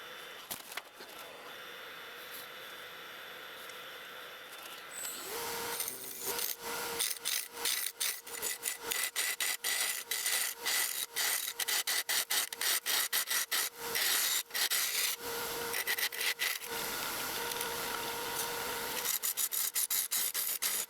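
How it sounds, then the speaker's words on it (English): Wood lathe spinning up as a manzanita burl and epoxy blank is turned to a cylinder at about 1000 RPM: a motor hum, then loud, rapid rhythmic scraping and chattering cuts in bursts, close up. "First, I return the piece to a perfect cylinder and slowly ramp the lathe back up to 1000 RPM."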